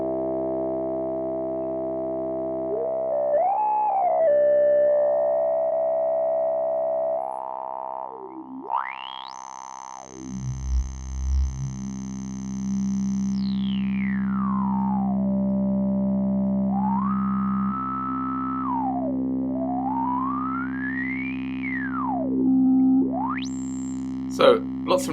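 Ableton Live 12 Analog synth patched to emulate Korg MS-20 tones: sustained buzzy notes with resonant filter sweeps, gliding chirps and pitch bends, and a deep low growl midway, loud and alone with no voices.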